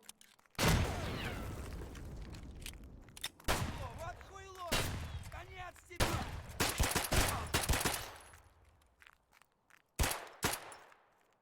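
Bursts of video game gunfire during a raid, several sharp shot volleys separated by gaps, with a voice talking between them.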